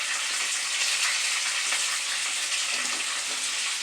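Chimichangas fry in hot grease on a stove, giving a steady, loud, even sizzle and crackle that runs unbroken from start to finish with no voices.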